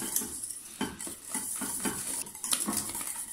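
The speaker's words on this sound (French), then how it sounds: "on ne s'arrête pas de mélanger" A utensil scrapes and clinks steadily against a metal saucepan in quick strokes stirring cream, close up, with no talking.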